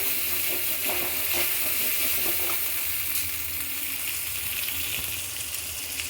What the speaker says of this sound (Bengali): চলুন আদাটা ভালো করে কষিয়ে নিই